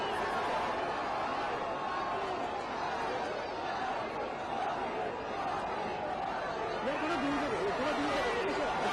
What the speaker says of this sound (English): Let's just listen to that frenzied cheering as the Prime Minister emerges after casting his vote.